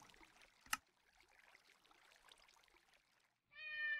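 A Minecraft cat gives a single short, clear meow near the end, following faint game ambience and a sharp click.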